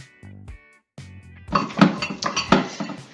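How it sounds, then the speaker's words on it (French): Dishes being washed, with pots and cutlery clinking and clattering. Two short, quieter bursts give way to a louder, busier stretch of repeated clanks and scrapes, close by and alone without talk. "pendant que je finis la vaisselle"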